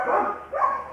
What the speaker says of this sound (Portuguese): O cachorro tá discordando de mim lá fora.